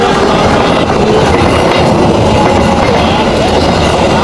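A train passes close by in Indonesia, giving a loud, steady rumble of wheels and carriages with rhythmic clatter that lasts the whole stretch.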